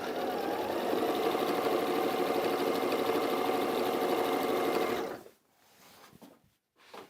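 A sewing machine stitches a design roll for a sew-along, its motor running steadily and loud for about five seconds before stopping, followed by faint handling sounds.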